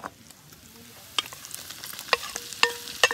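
Smoked sausage frying in rendered bacon fat, a soft low sizzle underneath with a handful of sharp utensil clicks and taps against the pan, quiet and close.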